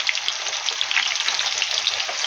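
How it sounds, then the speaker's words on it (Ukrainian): Loud, steady sizzling of breadless cutlets frying in oil in a hot pan, crackling and spitting continuously up close. "Все, смажимо далі."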